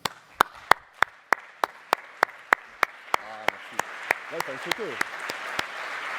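Applause at the opening of a sports medicine congress begins as a single steady, clear clap repeating on a regular beat, then thickens into a crowd clapping as a voice speaks over it.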